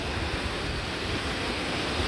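Ocean surf at a beach rolls as a steady, dense wash of broadband noise with some wind buffeting, loud and continuous with no distinct breaks or voices.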